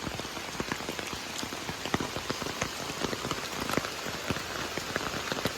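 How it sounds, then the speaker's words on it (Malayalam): Steady rain patters on a surface, dense individual drops ticking close by, continuous and even with no voices. "വീണ്ടും മഴ പെയ്തു"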